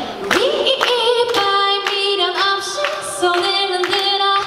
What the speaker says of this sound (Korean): 같이 박수 쳐주세요.